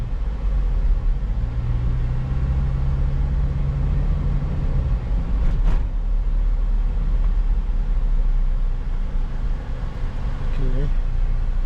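A 2007 Toyota Innova 2.0 G automatic driving on the road, with a low steady engine and road rumble throughout while someone talks over it.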